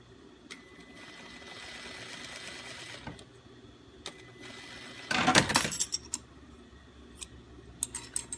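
A home sewing machine stitching stretch binding, with soft whirring runs broken by sharp clicks and a louder burst of rapid stitching midway, close and alone without talk.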